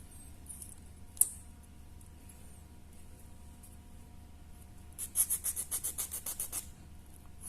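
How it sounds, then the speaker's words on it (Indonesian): A small file rasps against a Tamiya NASCAR mini 4WD gearbox part, a quiet near scrape followed by a quick run of about eight rhythmic rubbing strokes over faint background hiss. "kikir lagi"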